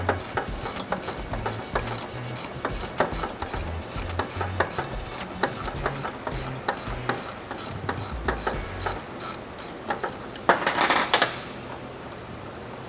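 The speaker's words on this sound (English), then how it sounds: "So we'll get the ratcheting wrench here." A ratcheting wrench loosens the top nut of a shock during a lift kit install on a 2024 Toyota Tacoma. Rapid, close metallic clicks run in quick bursts and stop near the end.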